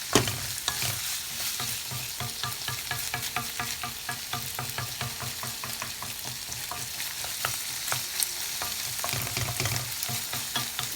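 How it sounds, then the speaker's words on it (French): Noodles with shrimp and chicken in soy sauce cook in a hot pan, with a steady close sizzle and frequent rhythmic clinks and scrapes of stirring. "Donc on laisse mijoter un peu."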